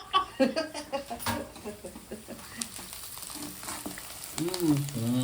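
Chicken frying in a pan, a steady sizzle and crackle with stirring clatter throughout, while people talk over it near the start and again at the end.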